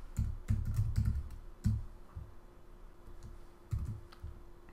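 Keys tapped on a computer keyboard while a URL is entered, quick bursts of close clicks separated by short pauses, fairly quiet and with no one talking.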